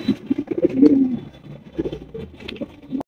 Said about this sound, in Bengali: হচ্ছে একজোড়া জ্যাকোবিন কবুতর, মাশাআল্লাহ ব্ল্যাক কালারের মধ্যে জ্যাকোবিন, খুবই চমৎকার